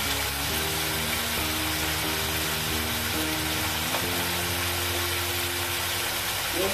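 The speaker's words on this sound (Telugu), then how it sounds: "హై ఫ్లేమ్లో ఫ్రై అవ్వాలండి కొంచెం చికెన్." Chicken frying over a high flame in a pan, a steady close sizzle with a low burner hum underneath and occasional stirring, no voices.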